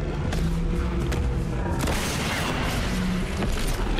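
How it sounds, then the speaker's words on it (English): Rocket blasts pummel a boss in Fortnite's Horde Rush mode, a dense, steady wall of low booming impacts and rumble running continuously with a few sharper thuds, loud and close throughout. "Damage time. I'm hitting him with rockets."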